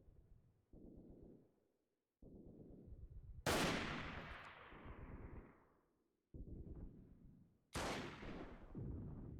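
Gunfire from the military shooter game Freeman: Guerrilla Warfare, with a lower rumble of fighting followed by two sharp, loud shots, each trailing off in a long echoing decay.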